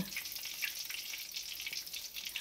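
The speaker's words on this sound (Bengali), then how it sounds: "চিকেনটাকে আমরা ফুল ফ্রাই করে নেব" Chicken pieces deep frying in hot oil for KFC-style fried chicken, a steady bright crackling sizzle with small pops, fairly faint and continuous throughout, with no voices.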